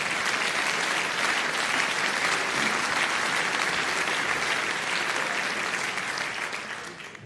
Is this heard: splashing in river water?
no